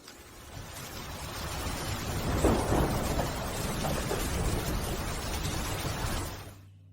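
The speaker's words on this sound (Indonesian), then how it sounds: "Di luar sedang hujan." Steady rain falls outside at night, a continuous broadband hiss that swells slightly midway and then cuts off abruptly at the end.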